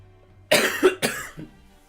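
Two sharp, close coughs in quick succession, followed by a softer trailing hack, alone against near silence.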